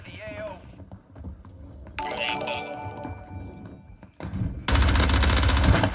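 Gunfire in a Cheech & Chong video game, a few shots amid game music and a voice, ending in a loud, dense burst of rapid fire.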